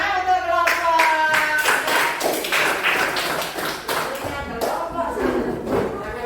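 A classroom of students claps for a group after an informatics lesson, an uneven burst of many hands with sharp taps and thuds, nearby and fairly loud, with a few voices mixed in.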